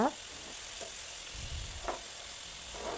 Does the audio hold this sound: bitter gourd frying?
yes